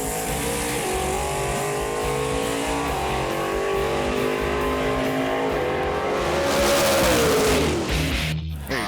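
A 1968 Buick Special Deluxe races down a track with a steady, loud engine roar and rising revs. Faint tire noise runs under it before the sound cuts off abruptly at the end.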